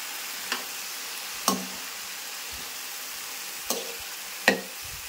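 Potatoes and carrots being stirred in a hot frying pan, with a faint steady sizzle and a few sharp scraping knocks of the spoon against the pan.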